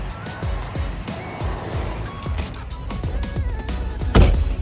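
Getting into a Toyota pickup truck before a fishing tournament on the Potomac River: a series of close knocks, rustles and shuffles from movement, ending in one louder thud like a door closing.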